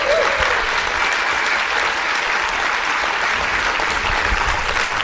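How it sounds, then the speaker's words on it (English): Sustained applause from a conference audience in Adelaide after a talk, steady dense clapping filling the room throughout with no voices over it. "Keep a round of applause going for Andreas"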